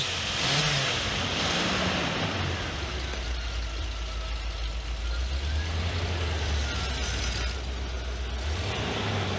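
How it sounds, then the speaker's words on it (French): A 1981 car's engine turns over and runs, holding a steady throaty idle with low rumble and mid-range revving swells, close and loud throughout, with no talk over it. "Est-ce qu'on peut la démarrer histoire d'entendre le moteur?"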